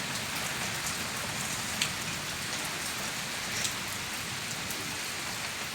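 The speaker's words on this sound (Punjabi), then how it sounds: "ਮੀਂਹ ਨੇ ਤਾਂ ਬਹੁਤ ਜ਼ਿਆਦਾ ਵਧੀਆ ਰੌਣਕਾਂ ਲਾਈਆਂ ਹੋਈਆਂ ਨੇ" Heavy rain falls steadily on a rural Punjab village, a dense, continuous hiss with no breaks and no voices.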